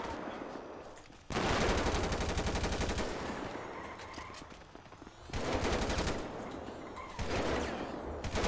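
Bursts of automatic gunfire crackle in rapid rattling volleys during a role-play shootout in a video game, loud and sustained with brief pauses between strings, no talk over them.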